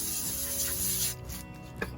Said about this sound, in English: I'm gonna take a rag with brake clean on it again